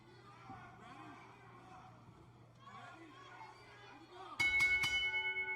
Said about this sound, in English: Bell is rung and we're underway.